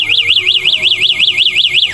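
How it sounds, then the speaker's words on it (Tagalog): A locked e-bike's anti-theft alarm goes off when the bike is moved: a loud, close electronic siren warbling rapidly up and down about five times a second, continuous and alone. "mag-a-alarm siya"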